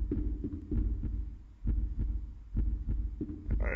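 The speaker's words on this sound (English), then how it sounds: "my loud heartbeat" A loud, close heartbeat in the horror game Maere: When Lights Die, a deep double thump repeating steadily about once a second, with faint ambient hum between beats and no talk.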